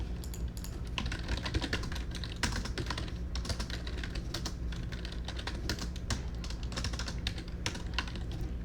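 Fast, steady typing on a computer keyboard, a dense run of close, crisp key clicks continuing without pause over a low background hum, with no voices.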